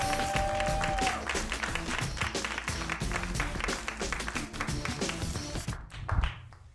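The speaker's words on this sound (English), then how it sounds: "A big round of applause for Jamal Guichon." Audience applause for a comedian at a comedy show, a dense, sustained roll of many hands clapping at moderate distance, with a brief musical tone at the start, tapering off near the end.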